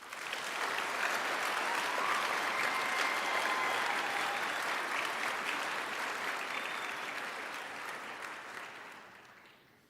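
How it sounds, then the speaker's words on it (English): An audience claps steadily and fairly loudly through a military graduation ceremony at Fort Sill, with a dense, even wash of applause that fades slightly toward the end. "Please give all the graduating classes a very deserving round of applause."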